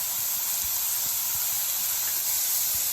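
Vegetables and mint fry in a pan, a steady loud broadband sizzle and hiss running unbroken throughout, with faint low clinks beneath.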